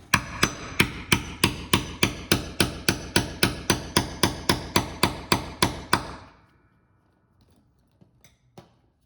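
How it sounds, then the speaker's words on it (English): About nineteen sharp hammer strikes drive a piano tuning pin in a steady, even rhythm for several seconds, then stop, leaving a few faint taps. "Put it in the hole and hammer it in."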